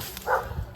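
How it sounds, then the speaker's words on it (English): A single short dog bark, muffled and somewhat distant, over low background rumble. "Sorry for the barking noises."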